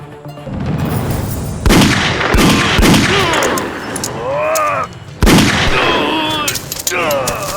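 Gunfire rings out in a dubbed action movie scene, with two loud, sharp shots about three and a half seconds apart cutting through tense music and effects, while a voice speaks over the scene.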